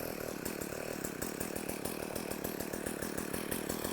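A STIHL Kombisystem residential engine runs steadily in a backyard, a loud, continuous two-stroke buzz with rapid rhythmic pulsing and no talk over it.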